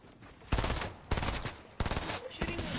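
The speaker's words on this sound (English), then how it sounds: "We're shooting them down." Rapid video-game gunfire during a two-team building shootout, arriving as three loud bursts of automatic shots separated by brief gaps, close and dominant with no talk.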